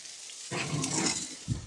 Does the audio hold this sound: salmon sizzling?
yes